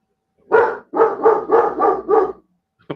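A pet puppy barks five times in a quick, even run, each bark close and loud, with a short pause before a final clipped sound at the end.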